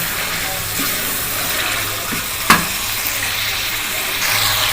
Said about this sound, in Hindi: ये गोश्त को मैंने 2 मिनट तकरीबन इसमें भून लिया है।